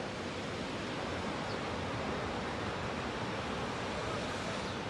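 Sea waves breaking on the shore at a mullet fishing beach, a steady, dense roar of surf that stays constant and loud from start to finish with no voices.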